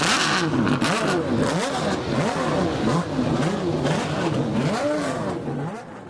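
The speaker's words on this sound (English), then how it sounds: "If the sound of these cars firing up on the grid doesn't get your heart racing" Formula BOSS race cars fire up on the grid, a loud dense roar of several engines revving and rising and falling in pitch over and over, with no talk.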